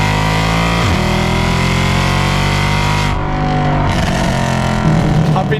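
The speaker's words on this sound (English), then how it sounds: "test out this exhaust. We didn't really get a chance last time. Remember, we got the long tube headers on here with a standard exhaust system." A Mercedes C63 with long tube headers and a standard exhaust system roars loudly and steadily while driving, its engine pitch climbing and dipping through revs with a brief gear-change dip midway.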